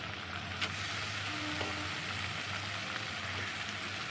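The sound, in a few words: minced meat frying and being stirred in a pan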